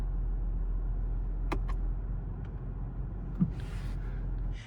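Toyota GR Supra idling after a remote start: a steady low engine hum runs unbroken throughout, with a couple of faint brief clicks and a soft hiss near the end.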